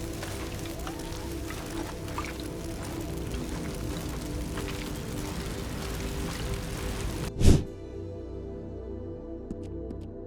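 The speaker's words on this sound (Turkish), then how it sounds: "ateş yakarsan yağmur yağar" Steady rain in Red Dead Redemption 2 pours in a dense hiss, then cuts off abruptly after a sharp thud, leaving near silence.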